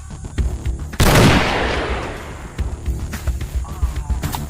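A single loud gunshot cracks out and rings into a long, fading echo, with faint background noise continuing afterward.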